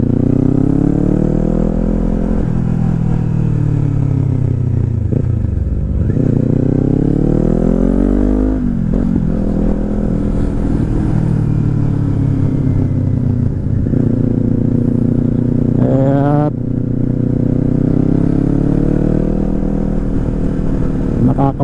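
A Kawasaki Z400 motorcycle engine drones loudly and continuously during a weekend road ride, rising and falling in pitch as the rider shifts through revs and gears, with wind rush throughout.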